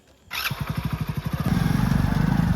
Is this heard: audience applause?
no